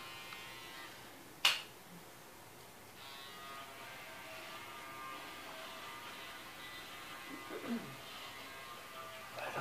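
A new electric shaver gives a faint, steady buzz at home, starting with a sharp click and carrying on quietly, with soft voices in the background.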